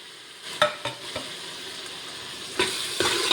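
Tomatoes stirred and frying in a pan while making mutton biryani, a soft steady sizzle broken by several sharp scraping stirs of a spoon against the pan.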